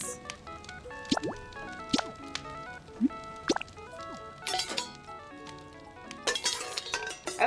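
Carrots go into a cooking pot of water in the video game Pokopia, with bright cartoony drips, plops and glassy clinks popping over a soft musical background.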